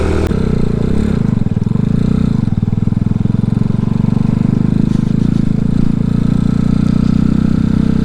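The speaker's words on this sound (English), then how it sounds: "Idle's up pretty good now, huh?" RPS Condor 250cc motorcycle with a modified stock exhaust idling up close: a loud, steady, low thrumming putter with a fast regular pulse that holds throughout, with no talking.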